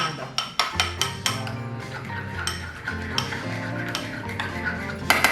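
A spoon clinks and scrapes against a bowl while stirring a remoulade-style sauce, making a run of irregular sharp taps and rattles close by.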